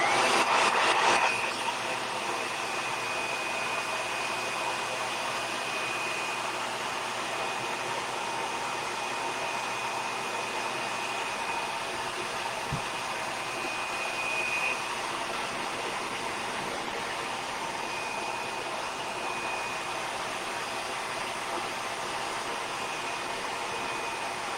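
Steady, loud whooshing airflow of a hair dryer or heat tool drying decoupage paper on a craft piece, running continuously with no talk, a brief burst at the start.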